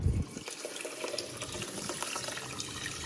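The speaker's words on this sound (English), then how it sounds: "then I'm just going to add the water" Water is poured from a tap or jug into a pot of rice, a continuous splashing trickle that starts with a brief louder gush and then settles into a steady, fairly quiet stream heard close up, with no voices.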